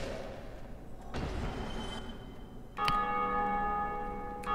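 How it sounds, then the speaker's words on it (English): In the video game Dark Souls, the Bell of Awakening rings out in a loud metallic clang that swells into a bright, sustained ringing tone. Softer rumbling and thuds come before it. "Oh look, someone else rang the bell of awakening."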